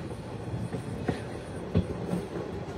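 The Kurigram Express rolls onto the Jamuna bridge, a low rumbling train ride heard from aboard with a few sharp wheel clacks and thumps over the steady rail noise.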